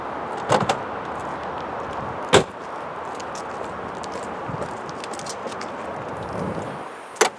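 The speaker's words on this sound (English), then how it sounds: "I want to pop the hood." Hood of a 2003 BMW M3 convertible in superb original condition being popped open: a few sharp, close metallic clunks of the latch and panel, spaced apart over a quiet background.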